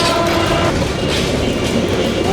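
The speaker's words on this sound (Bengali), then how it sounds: "গেটম্যান বুঝতেই পারল না ট্রেন চলে এসেছে" A train runs through the Malibag railway level crossing in Dhaka, a steady loud rumble of wheels and cars close by with no break across the short stretch.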